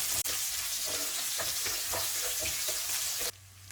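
Mustard seeds, urad dal, chana dal and dried red chillies sizzle in hot oil for a ginger rice tempering, a steady close crackling hiss with light stirring taps, stopping abruptly near the end.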